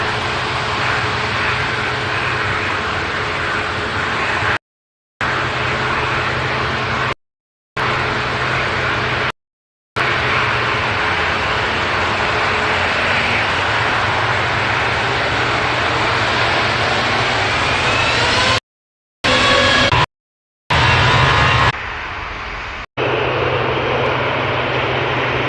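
A passenger airplane at Manchester Airport roars steadily and loudly, its engine noise droning close by for a long stretch, broken by several abrupt silent gaps, with no voices.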